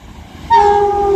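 The horn of train 35404 passing through West Allerton station on the West Coast Main Line Liverpool branch: a loud, close two-note tone that starts suddenly and holds steady over the rumble of the passing train.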